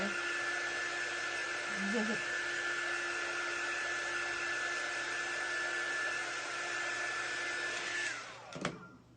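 Hair dryer blowing steadily on a craft project, a constant loud whirring hum for about eight seconds before it switches off with a brief clunk.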